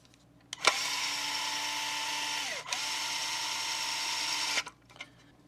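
A Makita DF012DZ 7.2V pen driver whines steadily at low speed for about four seconds, briefly dipping once midway as the motor stops and restarts, then cuts off; close and alone, with no talking.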